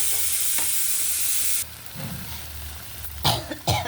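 Onion frying in a pan, a steady hiss of sizzling oil that drops away partway through, followed by a few brief scraping stirs near the end.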